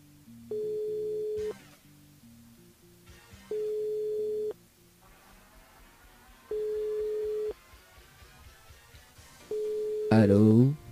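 On a radio call-in show's phone line, a steady ringback tone sounds in four evenly spaced bursts, each about a second long, with soft background noise between them. A brief burst of voice follows at the end.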